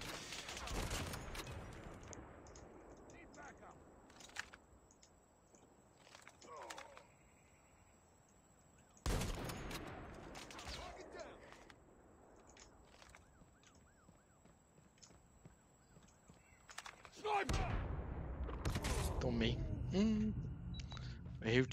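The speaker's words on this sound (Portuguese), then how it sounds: "O tiro dela é letal e barulhento pra caralho" Gunfire from a ZRG 20mm sniper rifle in Call of Duty Mobile, a slow, heavy, very loud weapon: a few sharp booming shots spaced seconds apart, mixed with game effects and voices talking.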